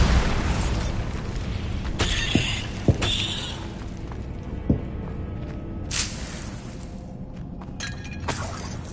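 Bombarda blasting-spell explosions in a Harry Potter video game: a loud rumbling blast with shattering debris, then sharp cracks and creaks as the noise slowly dies away, with no voices.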